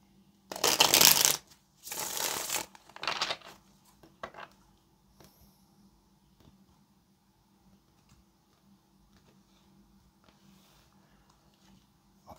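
A deck of tarot cards is shuffled up close in three quick riffling bursts, loud and crisp, then quieter soft taps and handling noises follow in a mostly still room.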